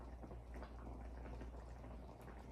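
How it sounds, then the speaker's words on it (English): A meal in a jar simmers in a pot on the stove, a soft continuous bubbling hiss at low level with no one speaking. "we will let this simmer."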